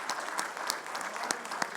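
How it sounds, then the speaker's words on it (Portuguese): A church congregation applauds during a worship service, steady dense clapping at moderate distance with a few sharper claps standing out, no voices over it. "Vamos aplaudir a esse Deus?"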